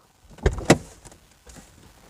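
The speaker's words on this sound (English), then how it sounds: "I'm gonna open the door." The door of a Dodge Durango opens with two quick mechanical clunks of the latch close together, then a softer rustle, heard close in an otherwise quiet setting.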